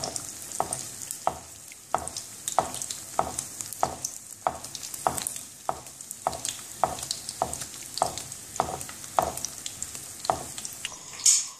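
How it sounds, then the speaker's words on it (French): An egg-filled brik, or bourek, fries in hot oil that is poured over it, with a constant sizzle and regular rhythmic scraping strokes repeating about every half second, close and without speech. "on vient verser l'huile sur notre bourré. En fait, en sorte qu'on cuit l'œuf dedans"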